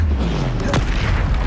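A Confringo explosive spell from Hogwarts Legacy bursts once as a short, punchy blast that booms over steady low game ambience and fades quickly.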